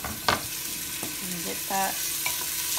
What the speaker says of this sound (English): So I have a large pot, and I have a little bit of oil in the bottom. I'm gonna add some more onions to it.